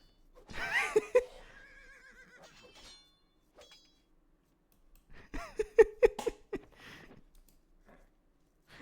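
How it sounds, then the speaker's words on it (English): Two separate horse whinnies in a video game (Age of Empires-style Alchemy League match), each a shrill, wavering neigh followed by snorting sputters, loud and close with a quiet gap between them. "they make horse sounds"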